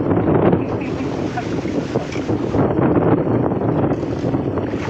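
Strong wind blows outdoors in a rural Thai setting and buffets the microphone in a steady, loud roar throughout. Faint voices sit under the gusts.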